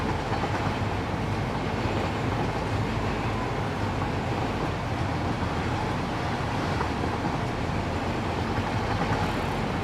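A train rolls steadily along its track in the factory-building game Satisfactory, a continuous dense rumble with faint clickety-clack holding at an even level throughout, with no voices.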